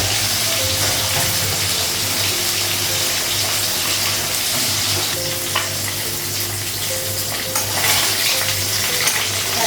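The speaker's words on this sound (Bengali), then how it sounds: "মাছ লাগবে, মাছগুলো লাগিয়ে দিলাম" Fish fries in a pan at home, a loud continuous sizzle with scattered crackles and spatters, close by and unaccompanied by speech.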